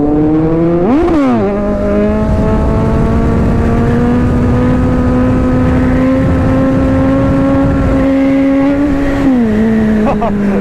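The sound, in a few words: superbike engine revving during a long wheelie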